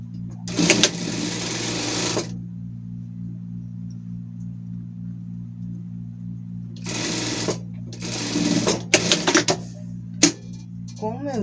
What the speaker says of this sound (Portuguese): E vamos passar uma costura reta aqui pra dar acabamento.